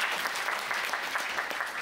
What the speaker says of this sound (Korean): 박수 한번 또 부탁드립니다